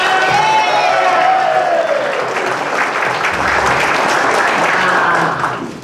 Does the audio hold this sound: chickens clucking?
no